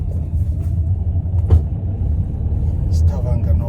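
A car drives through Stavanger, Norway on a Saturday evening, with a constant close low engine and road rumble and a few brief bumps and knocks along the way.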